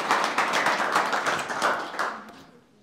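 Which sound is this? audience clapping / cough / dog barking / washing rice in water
audience clapping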